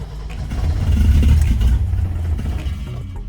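A Holden Torana engine revs loudly up close, running rough and misfiring with an uneven, stumbling low rumble that rises and then eases back.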